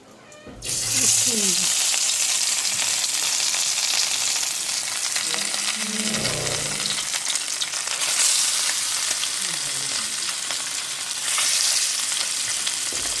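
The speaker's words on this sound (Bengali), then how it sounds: "মাছ ভাজব" Fish dropped into hot oil bursts into a loud, dense sizzle that holds steady and close for several seconds, with faint murmurs of a voice low beneath the crackle.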